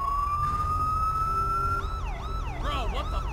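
Police car siren in GTA 5, a steady rising wail that breaks into rapid yelping sweeps, loud and close over a low engine rumble with no talk.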